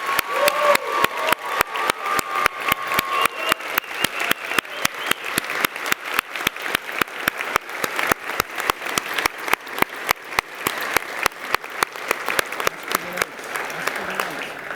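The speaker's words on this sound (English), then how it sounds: "I invite everyone here to applaud you." Crowd at a 2025 commencement ceremony applauds the standing graduates with sustained, evenly pulsing clapping that carries on for about fifteen seconds, filling the hall.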